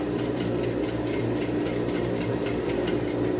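A sewing machine stitches fabric for a women's tailored blazer, a close, steady mechanical whir with a fast, even needle rhythm and no talking.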